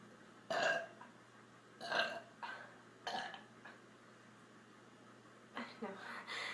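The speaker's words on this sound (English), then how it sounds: "I burp it all for you." A woman burps repeatedly, four or five loud, drawn-out belches spaced a second or so apart, close to the microphone against a quiet room hum, the last ones rougher and more broken.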